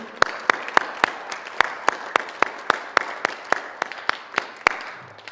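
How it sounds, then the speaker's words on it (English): Crisp, evenly paced hand claps honoring the judges at a music therapy songwriting competition, about twenty sharp claps in quick succession, close and clear, with no talking. "let's make sure that we give a big round of applause for all of our judges"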